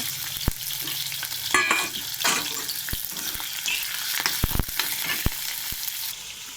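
Prawns frying in a pan for a curry, a steady close sizzle punctuated by sharp clinks and scrapes of a utensil stirring against the pan.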